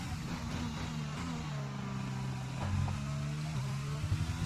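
An F1 car engine in F1 2020 drones at high revs with a steady, buzzing whine that shifts pitch as the gears change, continuous and fairly loud, with a brief surge partway through.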